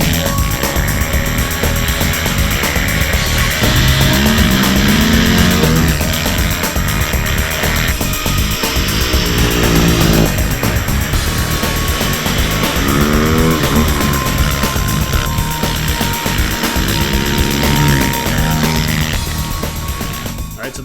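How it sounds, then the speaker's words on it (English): Timbersled and Yeti long track snow bikes accelerate hard in fluffy snow. The engines roar loud and continuous for about twenty seconds, with rising and falling revs as the machines wind up and shift, and no talking. "We're going to see how fast these bikes hook up, how fast they'll go, and how well they'll corner."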